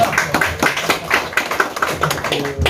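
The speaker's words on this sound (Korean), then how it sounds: "박수 한번 쳐드리겠습니다" Hands clapping in a small gathering of small-business association members at a rice-cake trade event, a loose patter of taps and claps over roughly three seconds, fairly close and steady.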